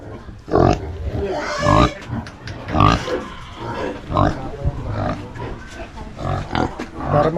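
Pigs crossbred with wild boar, F1 crosses, grunt and snort in repeated bursts at close range, with people talking over them throughout.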